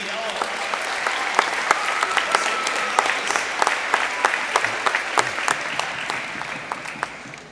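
A school audience at a sixth grade orientation claps for student leaders, with steady scattered applause and sharp individual claps throughout, moderately close and with no speech over it.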